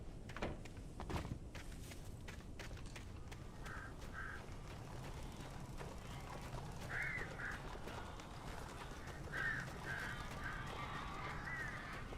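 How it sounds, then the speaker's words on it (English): Crows caw in short paired bursts through the Alan Wake Remastered game world, several calls scattered over a few seconds, fairly distant above a steady ambient hiss, with a few footstep-like knocks early on. "Barry had talked about birds over the phone."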